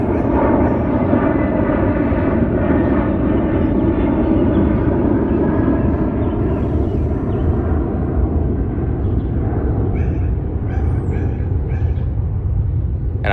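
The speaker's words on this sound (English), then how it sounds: "it's okay, plane can pass." An airplane passing overhead makes a loud, steady roar that fills the whole stretch with continuous engine noise.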